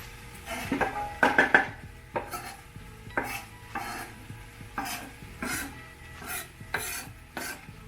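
A spoon scrapes and stirs beet and rosemary soup ingredients in a pot, sounding as a steady series of rhythmic scraping strokes, close and moderately loud, with no talking.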